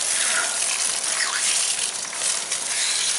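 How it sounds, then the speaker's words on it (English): Water gushing steadily and close onto a young girl's hair as it is wetted for washing with a junior-line shampoo, a continuous broadband splash with no talk. "I'm just going to get her hair wet"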